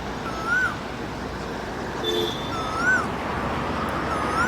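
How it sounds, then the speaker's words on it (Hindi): An Asian koel's rising whistled call repeats a few times at a distance over steady outdoor background noise. "कोयल की आवाज़ अभी भी वहाँ से आ रही है"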